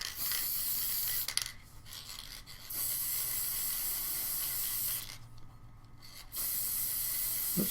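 Aerosol coating sprayed over a pencil drawing to reduce graphite shine: three steady hissing bursts, the first short and the next two longer, separated by brief pauses, close and moderately loud.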